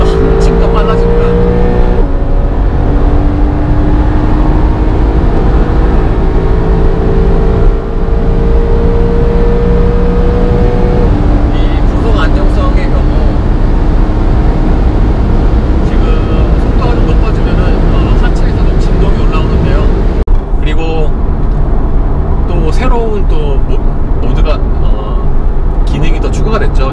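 Loud, sustained engine roar of a Porsche 911 991.2 Carrera 3.0 twin-turbo accelerating in Sport Plus mode, with rising pitch sweeps as it climbs through gears and a brief shift break near the end.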